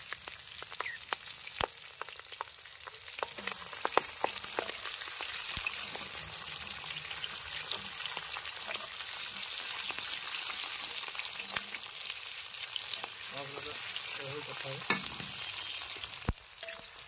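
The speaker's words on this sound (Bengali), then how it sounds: "পেঁয়াজটা আমাদের অল্প একটু ভাজা হয়ে গেছে" Onions sizzling in a pan with green chilies, stirred now and then, for an egg dopyaza; a steady loud frying hiss runs throughout with occasional scraping clicks and no talk.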